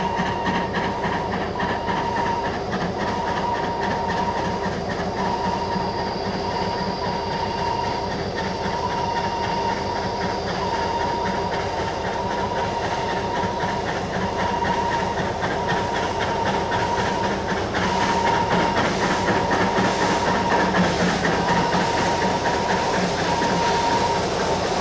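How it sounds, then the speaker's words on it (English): A wheat train waits at the Spring Bluff mountain station, its idling engine giving a steady, continuous rumble with a faint tonal hum throughout, close and unchanging, with no voices. "A wheat train waits to cross the special at the beautiful mountain station of Spring Bluff."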